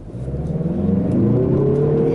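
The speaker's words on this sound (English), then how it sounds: "Let's give a little hard start here with the wheel turned right" A 2021 Mazda 3 Turbo AWD making a hard start with the wheel turned right, its engine note rising steadily and loudly as it accelerates, heard from inside.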